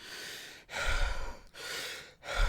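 A character breathing heavily through a gas mask in a film scene: slow, loud, hissing breaths with brief pauses between them, close and muffled.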